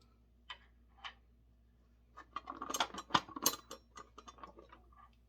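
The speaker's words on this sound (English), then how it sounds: "You'll have to unscrew a wing nut to get access to them." Ratcheting, clicking turns of a wing nut being unscrewed on a Dewalt table saw, a few isolated clicks at first, then a denser run of close metallic ticks and ratchets, with no talk.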